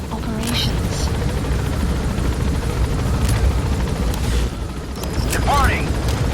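A helicopter in the game Metal Gear Solid V climbs away, its rotor thrumming steadily and loud, with brief swooshes and a radio voice over it.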